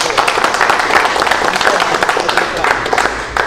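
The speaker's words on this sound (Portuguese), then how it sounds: "Uma salva de palmas, né, galera?" Applause from an audience at an Umbanda gathering, a dense, steady wash of clapping lasting several seconds with voices mixed in throughout.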